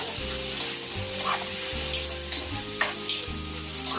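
Meat for ginisang Baguio vegetables sizzles as it goes into a hot pan, a strong close hiss with stirring scrapes and a few sharper spatters, with a low steady hum underneath throughout.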